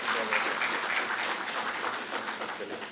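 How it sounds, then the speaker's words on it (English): Audience applause at a one-day legal conference on electronic evidence and cyber law, a dense, fairly distant round of clapping that holds steady throughout with faint voices mixed in. "Please, a hand of applause for Lordships."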